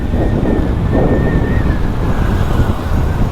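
Cold wind buffets the microphone during a motorbike ride along a road near a river, a loud, continuous low roar with rumbling road noise underneath.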